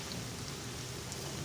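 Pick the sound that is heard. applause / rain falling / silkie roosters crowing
rain falling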